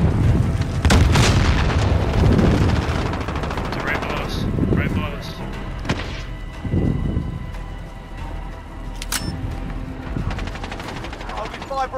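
Loud, chaotic Warzone firefight: a planted charge booms amid bursts of gunfire and heavy low rumbling, with repeated shots and blasts stacked close together and voices talking over the action.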